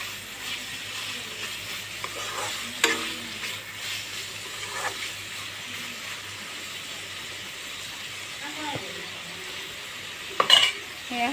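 Meat sizzles gently in a pan over a low gas flame. The frying is soft and continuous, with a few scattered clinks and scrapes of a utensil and one brief cluster of louder knocks near the end.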